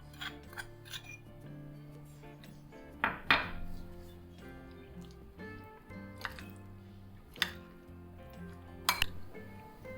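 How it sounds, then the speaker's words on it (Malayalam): Sugar gets mixed into a bowl for an eggless bread mango pudding, with a light rubbing and scraping of the spoon and several sharp clinks against the bowl, close and quiet, no talking. "ഈ പഞ്ചസാര കൂടെ ചേർത്തിട്ട് നല്ലപോലെ ഒന്ന് മിക്സ് ചെയ്തെടുക്കാം."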